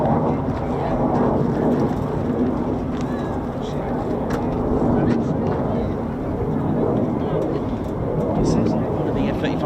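A USAF F-35 fighter jet returning to RAF Lakenheath produces a broad, rumbling roar, mixed with wind buffeting on the microphone and continuous voices talking over it.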